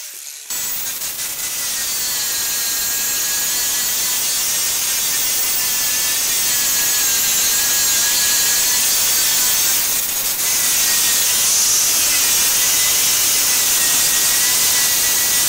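An angle grinder fitted with a flap disc shapes down a wooden handle for a homemade hammer or mallet, a loud, continuous high whine with a rough abrasive rasp that holds steady throughout, briefly dipping once before resuming.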